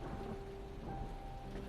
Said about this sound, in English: rain pours down from the edges of the roof above you